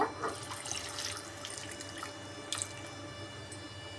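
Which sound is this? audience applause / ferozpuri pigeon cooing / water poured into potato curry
water poured into potato curry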